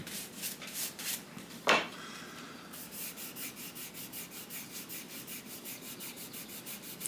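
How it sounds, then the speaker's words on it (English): Sandpaper rubs over a surface with orange-peel texture in steady back-and-forth strokes, a rhythmic close scratching that pauses once around a brief sharper scrape, with no talking. "Try and clear the sandpaper every so often so it doesn't, first off, it doesn't plug up with residue"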